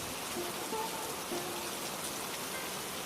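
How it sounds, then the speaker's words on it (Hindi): Heavy rain falls outside in a steady, dense hiss of drops, close and unbroken throughout with no pauses. "बाहर अब भी तेज बारिश हो रही थी।"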